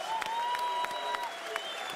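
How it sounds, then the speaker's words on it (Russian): Applause from the audience at a fight event, brief steady clapping at moderate volume with a tone sounding over it. "Еще раз аплодисменты Давиду Хачатуряну"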